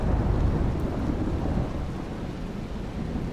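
A thunderstorm with heavy rain gives a continuous, dense, low rumbling roar mixed with steady rain hiss. It holds loud and even throughout, with no voices.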